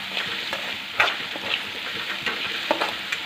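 Green chillies frying in oil for dry potato bhaji, a steady close sizzle with a few sharper pops and spatula stirs scattered through, no talking.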